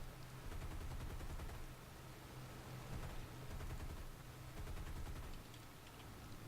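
Sustained bursts of machine-gun fire from a P-40E Kittyhawk fighter in a combat flight video game, a fast rattling stream that runs almost continuously over a noisy engine drone, moderately loud with brief dips between bursts.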